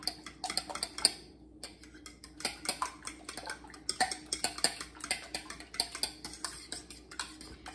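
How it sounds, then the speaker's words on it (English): Eggs and milk being beaten in a bowl for a ham breakfast casserole, a steady run of quick clicking whisk or fork taps against the bowl, close and fairly quiet. "we're just going to beat the eggs and milk together"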